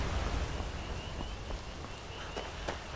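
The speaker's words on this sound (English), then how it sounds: "Still raining." Steady rain falls in the video game Skyrim as a dense, even hiss with scattered drop ticks throughout and no talking.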